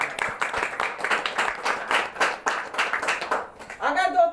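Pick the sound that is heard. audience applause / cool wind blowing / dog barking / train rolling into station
audience applause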